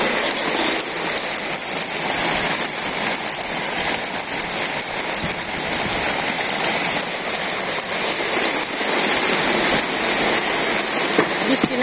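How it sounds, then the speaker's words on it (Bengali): Heavy rain pours steadily over a village on a rainy day, a dense continuous hiss of drops striking surfaces close by, unbroken and loud for the whole stretch with no talk over it. "ভালোই নামছে বৃষ্টি"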